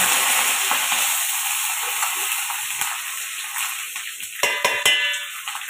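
Cumin, mustard seeds and curry leaves sizzle loudly in hot oil, a continuous close crackling hiss with sharp pops and stirring clatter growing busier toward the end.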